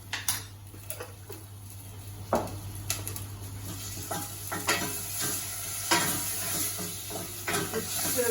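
Onions and garlic fry in a pan for a mushroom stroganoff, a soft continuous sizzle broken by repeated spoon scrapes and knocks as the mixture is stirred, close and fairly quiet.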